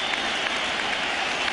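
A baseball crowd at Fenway Park in Boston roars and applauds in a steady, dense wash of noise during the 2007 World Series, rising for pitcher Beckett.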